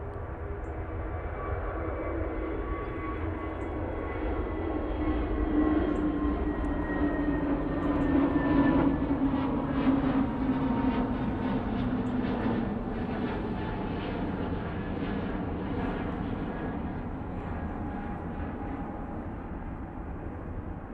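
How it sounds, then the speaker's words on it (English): An EasyJet airliner bound for Tenerife rolls down the runway at Manchester Airport, its engine roar building to a peak around the middle, then easing into a sustained, slowly fading rumble heard alone. "Right, EasyJet now on the roll. It's going off to Tenerife."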